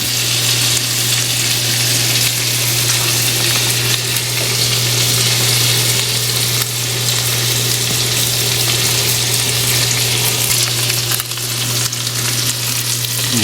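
Bread fries in a pan with garlic aioli beside a steak, a loud, steady sizzle that carries on without a break and has no talk over it.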